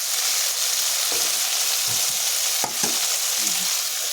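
Loud continuous sizzling of fried spiny gourd stirred into spice paste in a pan, with a few scraping stirs and clinks of a utensil breaking through the hiss.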